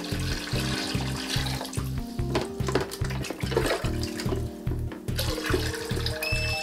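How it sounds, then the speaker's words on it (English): Water pours steadily from a hose or pipe into an aquarium tank in a reef tank lab, a constant splashing gush with a rhythmic pulsing hum beneath it. "I'm manually going to fill up the tank"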